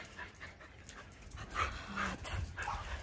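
Dogs in a shelter enclosure give soft whimpers, yips and panting, faint and intermittent against a quiet background.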